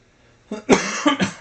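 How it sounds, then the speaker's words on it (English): A short burst of coughing close to the microphone: two or three rough, throaty coughs in quick succession after a moment of quiet. "Excuse me for the coughing."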